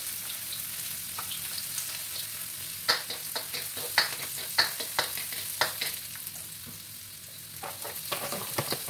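Aromatics sautéing in a pan for a tuna lumpiang shanghai filling, with a soft steady sizzle under a run of sharp spoon scrapes and stirring clicks through the middle, then quieter frying.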